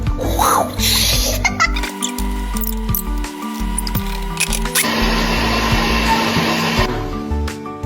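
A kitchen grinder crushing green chilli, ginger and curry leaves, running loud and steady for the whole stretch with a constant whirring drone that shifts in pitch as the load changes, no talking.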